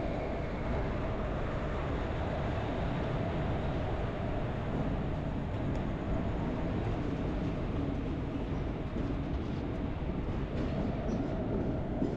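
A passenger train running from Chennai to Erode rumbles steadily near the Kaveri crossing, a dense, continuous roar of wheels and carriage noise throughout with no break.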